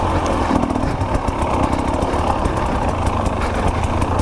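A KTM 300 XC W two-stroke dirt bike engine runs steadily nearby, a loud, buzzy, even drone that holds without pause from start to finish.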